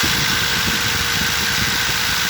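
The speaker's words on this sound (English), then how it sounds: "if you listen to the 2 of them, go on, listen to the good one first." A Dewalt DCF887 cordless impact driver runs continuously nearby, giving a steady, dense mechanical whir with a faint high whine that stays at a constant level throughout. No one speaks.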